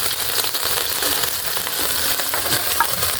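Chopped onions fry in a hot pan with a dense, steady sizzling hiss, close and loud throughout, with a few faint clinks and stirring scrapes over it.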